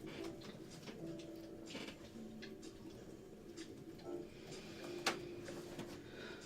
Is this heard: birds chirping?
yes